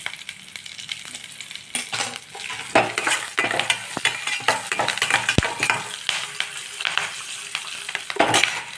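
Chillies frying in hot oil in a pan as the tempering for lemon rice, a steady sizzle broken by scattered clinks and stirring scrapes, no talking.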